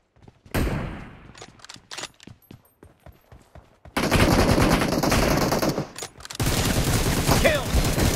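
M762 assault rifle fire in PUBG Mobile: rapid automatic bursts, sharp and loud, stuttering in short volleys then giving way to dense sustained firing up close.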